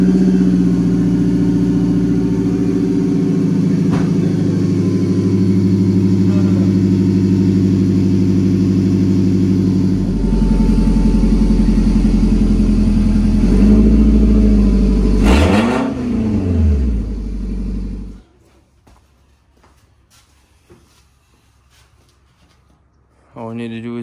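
A Scion tC with an aftermarket catback exhaust cold-starting and idling with a steady deep drone, then revved several times with rising and falling engine swells before the engine shuts off and near silence follows; voices talk over parts of it.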